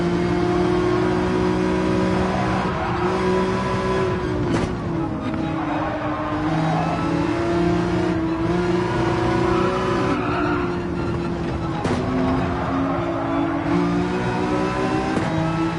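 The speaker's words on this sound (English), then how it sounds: "Racing down the strip, we're dragging it" A race car in Gran Turismo 7 at Lake Maggiore holds a loud, steady engine drone that rises and dips with gear changes and throttle, with brief tire squeals over the continuous note and no talk.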